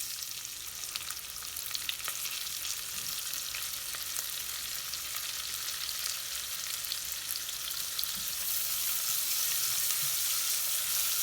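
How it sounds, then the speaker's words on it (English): Chopped onions fry in ghee with asafoetida and cumin over a slow medium flame, a steady, even crackling sizzle that runs unbroken and fairly quiet, with a few faint stirring knocks and no talk. "We have to cook the onion till brown color in a slow medium flame."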